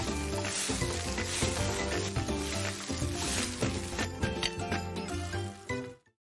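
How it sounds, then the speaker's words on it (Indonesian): Nasi goreng fried rice sizzles and is stirred in a pan, a steady crackling frying sound mixed with tonal background sound, then cutting off abruptly at the end. "Mulailah Sati membuat nasi goreng pertama kali."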